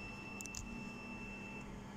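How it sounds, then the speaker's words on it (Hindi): An HP Scanjet 3110 scanner gives a few quick faint high beeps when its button is pressed, over a steady electronic hum. "ये देखें बीप आ रही है"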